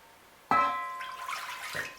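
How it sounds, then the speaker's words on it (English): Water is poured into a cooking pot while Cameroonian ndole is being prepared, starting abruptly as a bright splashing stream that runs steadily and close for about a second and a half, with no talking. "Put some water in a pot."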